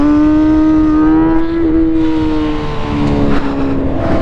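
Motorcycle engine revving during a wheelie, loud and close, with a sustained tone whose pitch rises and dips unevenly under choppy throttle.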